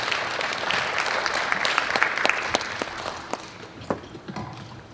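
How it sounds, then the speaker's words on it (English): Moderate applause from a symposium plenary audience welcoming an ambassador, a crackle of many hands that thins into scattered separate claps as it fades out. "Please join me to welcome Ambassador Joe with a big round of applause."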